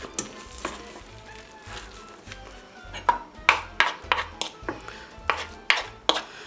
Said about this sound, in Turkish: tahta kaşık ses çıkarmasın diye yaptım ama hiç kolay karıştırılmadı